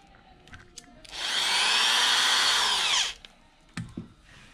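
A power drill runs with a bit, spinning up into a steady loud whine for about two seconds before stopping, with a few clicks and knocks around it during work on a brush cutter throttle cable end.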